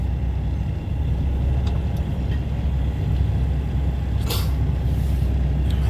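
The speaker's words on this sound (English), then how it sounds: "Let's wait on these cars to pass." Cars passing on a snowy road, a steady low rumble of traffic with a brief louder swell as one vehicle goes by, no talking.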